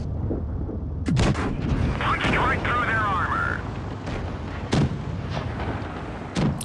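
A T29 tank's cannon fires in a tank video game, with heavy booming shots and metallic ricochet pings as shells bounce off armour, while someone talks over the action.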